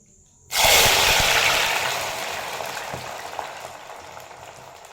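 Jackfruit slices hit hot oil in a Kerala-style frying pan, setting off a sudden loud, broad sizzle that gradually softens into steady bubbling and crackling, with no voices present.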